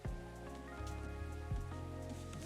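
Steady rain falls in the video game Coffee Talk 2, a soft pattering wash beneath gentle melodic game music and low bass notes, with no talking.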